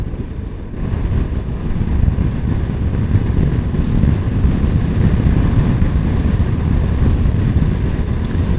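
Motorcycle ridden at about 80 km/h while overtaking a car, a steady loud rush of engine drone and wind buffeting the microphone, continuous with no break.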